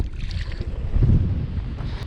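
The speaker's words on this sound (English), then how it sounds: "Windy as hell." Strong wind buffets a fishing boat out on a grass-choked lake, a steady low rumble of gusts pushing against the microphone with no talk.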